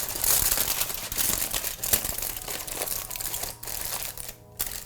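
Aluminum foil is wrapped around and crinkled over a paper towel at close range, a steady crackling rustle that continues throughout with sharper crinkles.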